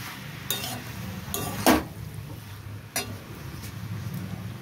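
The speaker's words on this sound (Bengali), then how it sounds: "গরম মশলাটা দিয়ে ভালো করে মিশিয়ে নেব" Garam masala is stirred into a banana flower curry, with a few sharp clinks and scrapes of a utensil against the pan spaced over a low steady background.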